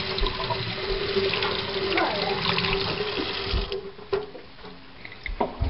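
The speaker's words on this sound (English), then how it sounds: "First, you just wash them under water." Fresh garden asparagus rinsed under a running kitchen tap, a steady close rush of water with small splashes and shifts in flow as the spears are turned, easing off toward the end.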